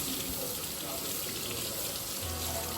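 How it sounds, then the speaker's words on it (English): Small red potatoes being scrubbed under steadily running tap water, a continuous close hiss of flowing water with faint scraping, alone throughout. "I make sure and wash them really well and scrape off every last bit of dirt"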